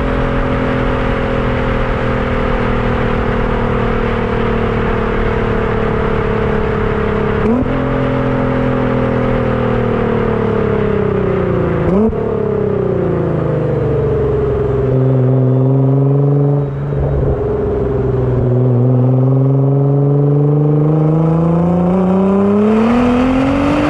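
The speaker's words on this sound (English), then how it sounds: "what a marvelous engine" Nissan GT-R engine droning loudly from inside the car, a steady strong tone rising and falling in pitch as the revs shift and gears change, with no talk.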